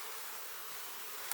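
Honeybees hum in a dense, steady buzz while a backyard hive is opened for inspection, the swarm close and continuous across a brief moment with no voices.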